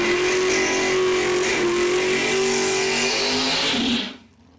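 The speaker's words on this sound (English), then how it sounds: "Here we got a door car versus dragster matchup." At a drag strip, a door car and a dragster launch together with a loud roaring, revving engine howl that holds strong and steady, then drops off abruptly to near silence.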